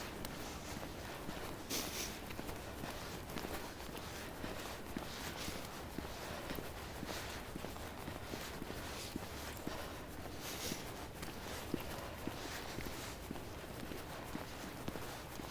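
Footsteps on a quiet New York City street during a winter commute, a soft steady walking rhythm close to the microphone with faint breathing and jacket rustle, no talking.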